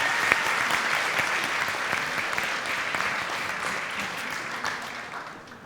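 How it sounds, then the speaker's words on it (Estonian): An audience claps steadily after a forum theatre performance at a mental health fair, a dense, sustained round of applause that slowly thins toward the end. "Teeme talle suure aplausi."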